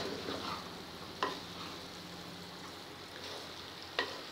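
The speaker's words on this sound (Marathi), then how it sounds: "भाजी आधी हलवून घेऊया आणि मग बघूया शिजली की नाही ते।" A spatula stirs cabbage and chana dal bhaji in a pan over a low gas flame. Two brief scrapes stand out over a soft, steady sizzle, with no talking.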